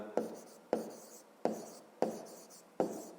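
Pen writing in a notebook during a maths lesson: five crisp, evenly spaced strokes, each a sharp scratch that fades, close and clear with no voice over it.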